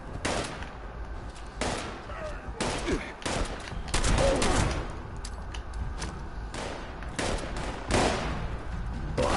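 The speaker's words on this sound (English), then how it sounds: "Guns are blazing." Video game gunfire in Fallout 76 fills the stretch as repeated loud bursts and single shots in an irregular rhythm, with short gaps between volleys and quiet background ambience.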